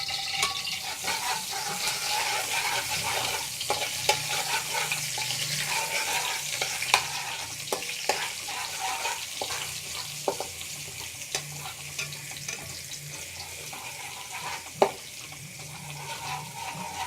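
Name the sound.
garlic frying in ghee in a pan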